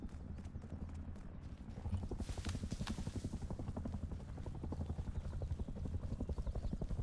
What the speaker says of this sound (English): The attack helicopter's coming,